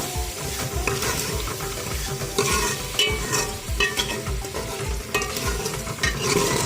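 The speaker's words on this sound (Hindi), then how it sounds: "टमाटरों को हम अच्छे से फ्राई करेंगे, यहाँ तक के टमाटर हमारे सॉफ्ट हो जाएं" Chopped tomatoes and green chillies fry in a pan with steady, close sizzling and bubbling, with repeated scraping and stirring strokes throughout, no voices.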